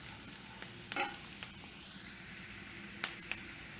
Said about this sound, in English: Get that all incorporated there and we'll let that saute for another minute or so.